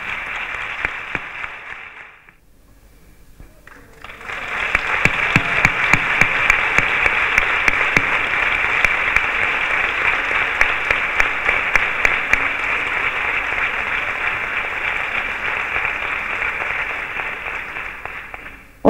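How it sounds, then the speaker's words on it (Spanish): An audience applauds as a fair poster is unveiled at a 2021 presentation of a poster and book; a short burst of clapping dips, then swells into long, sustained, steady applause. "Un aplauso también para ellos."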